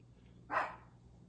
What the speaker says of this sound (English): she doesn't howl. She just barks.